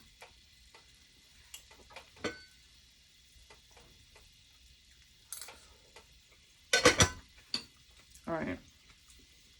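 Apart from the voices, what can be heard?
rice cooking and being stirred in a pot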